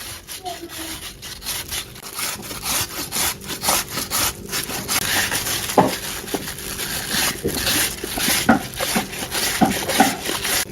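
Peeled produce is grated by hand on a grater, giving steady, close rasping strokes in a scraping rhythm that grows louder and busier through the second half.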